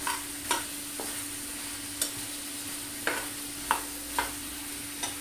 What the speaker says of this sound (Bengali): তো দেখুন মাংসটা অনেকটাই ভাজা ভাজা হয়ে গেছে